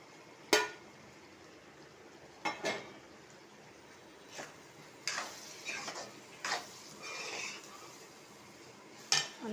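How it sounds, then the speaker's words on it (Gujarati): Fried capsicum goes into a cooking pan with scattered utensil clinks and taps against the metal. A few sharp knocks are separated by quieter stretches, followed by some brief scraping and stirring, all fairly close in a quiet room. "હવે આપણે જે ફ્રાય કરેલા કેપ્સિકમ હતા તે અંદર નાખી દઈશું"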